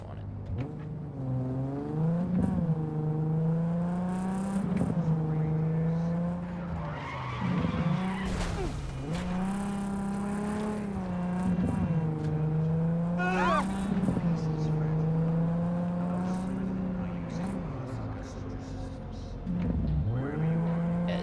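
Video game car engine holding a steady drone with repeated brief dips and swells as throttle and brakes alternate, with tire skids mixed in, played with a Wooting 60HE analog keyboard; a voice talks over it.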